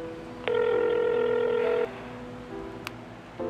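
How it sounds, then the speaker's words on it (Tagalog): A mobile phone rings nearby with a steady electronic tone lasting over a second, then quieter repeated beeps follow in a still room, with no one speaking. "Hindi nga pa tunog ng tunog yung cellphone mo, hindi mo sagutin."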